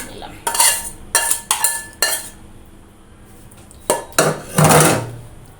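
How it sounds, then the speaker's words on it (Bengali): Metal pots and utensils clank and scrape as cooked small-fish and potato curry is moved into another pot, a few sharp knocks, a pause, then a louder cluster of clattering and scraping up close. "এখন আমি এটা অন্য একটা পাত্রে ফেলে নিলাম।"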